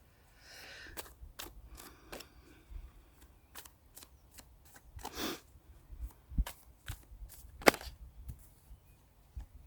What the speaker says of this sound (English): I just want to pull one final card here.